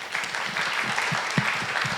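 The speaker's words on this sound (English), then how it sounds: "Please join me in giving them another round of applause." Audience applause for a panel of speakers at an evening community event, a steady dense wash of clapping filling the whole moment at moderate level with no talk over it.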